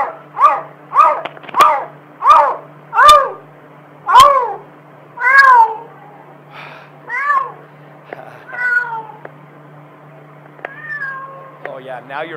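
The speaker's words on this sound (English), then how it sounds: "Kitty cat, you're supposed to say meow, meow, meow." A series of loud, close meows, about a dozen rising and falling calls, evenly spaced at first and then more varied and softer toward the end.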